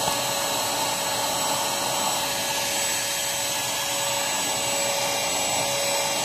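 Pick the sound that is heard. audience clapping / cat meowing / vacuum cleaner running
vacuum cleaner running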